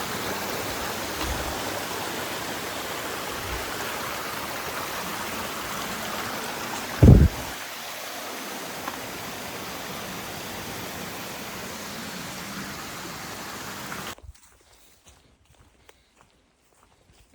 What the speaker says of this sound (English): we got to get across the creek